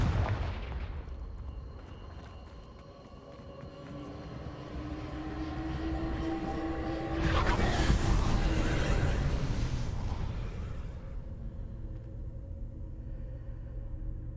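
Confringo fire-blast spells cast in the video game Hogwarts Legacy, a loud rumbling burst swelling around the middle of the clip over a dense, continuous low roar of game sound, with no talking.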